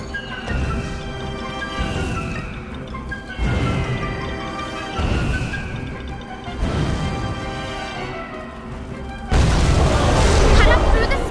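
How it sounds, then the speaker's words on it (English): Missiles fired and exploding in the Puppeteer video game, a series of booming blasts repeating every second or two with whooshing launches, ending in a louder burst, with voices over the action. "Lord firing missiles."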